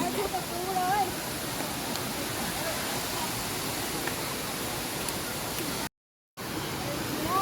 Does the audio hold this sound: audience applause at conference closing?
no